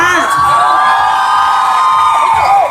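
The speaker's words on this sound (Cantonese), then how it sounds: "我哋再俾多啲掌聲歐巴嚇" A crowd at the Ok Taec Yeon OKCAT unveiling ceremony cheers loudly with high whoops and shouts, a brief sustained roar close by.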